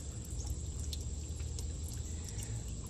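Water trickles and drips steadily from a leak beneath an RV's black tank, a continuous close hiss with faint drips and no talk.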